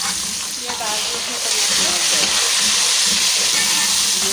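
Onions and ginger-garlic paste fry vigorously in a pan, giving a loud, dense, continuous hissing sizzle with scraping from stirring throughout, close up and without talk.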